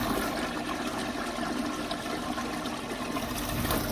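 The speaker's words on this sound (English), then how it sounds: "let's flush it and see how we did." Toilet flushing close by, a loud, continuous rush of swirling water that stays strong for the full four seconds with no talking.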